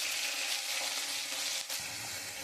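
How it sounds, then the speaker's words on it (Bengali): Oil heating in a wok with dried red chili and nigella seeds, sounding as a continuous, moderately close crackling sizzle that holds steady across the brief stretch with one small dip near the end. "কড়াইতে আমি তেল দিয়ে দিয়েছি, শুকনো লঙ্কা আর কালো জিরে দিয়ে দিয়েছি"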